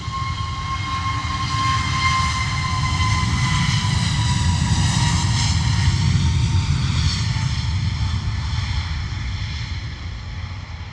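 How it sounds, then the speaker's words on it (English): Airbus A320neo taking off at London Luton Airport in wet, windy weather, a loud sustained jet engine roar with a rising whine, steady and close throughout. "Nice early rotation for the A320 Neo"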